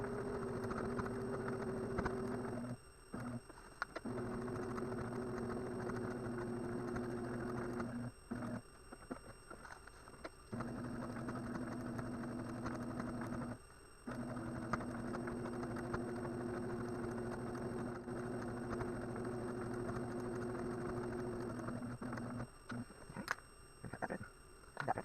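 A home sewing machine stitches slowly through several layers of a Christmas mini quilt in a steady mechanical hum, stopping and restarting in short runs, fairly quiet and with no talk.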